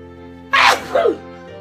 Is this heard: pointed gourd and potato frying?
no